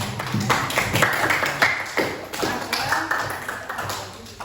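A group of students claps for answers given by classmates in a class session, with a fairly quiet patter of sharp, separate hand claps falling in a loose rhythm.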